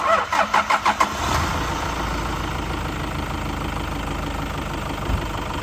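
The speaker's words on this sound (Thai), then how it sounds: "เดี๋ยวสตาร์ทเครื่องฟังเสียงครับ" A Toyota Tiger 3.0 pickup engine cranks with a rapid burst of starter pulses, catches and settles into a steady, close, even idle that runs on alone.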